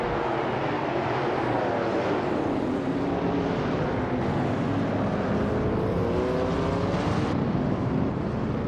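Racing engines from 1970s supercars, a vintage Barracuda Hemi among them, roar off the start line at Bahrain in a racing video game, a dense continuous drone of revving, rising and falling engine tones.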